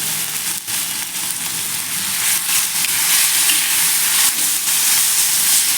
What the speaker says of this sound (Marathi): ते या पद्धतीने आपण तडका देऊन जरा थोडंसं एक एखाद मिनिटभर किंवा अर्धा मिनिटभर असं फ्राय करून घेऊया